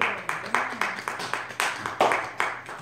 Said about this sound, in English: I'll give the Lord a hand clap